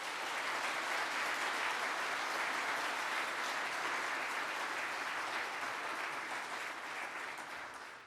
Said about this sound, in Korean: 이 수상자분들에게 내빈 여러분의 뜨거운 축하의 박수 부탁드리겠습니다